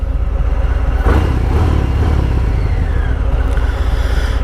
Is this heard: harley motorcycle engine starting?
yes